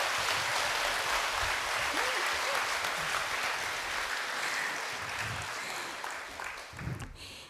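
Sustained applause fills a hall for pianist Professor Shin Young-ju at a Friday prayer meeting, a dense, even wash of clapping that tapers off near the end.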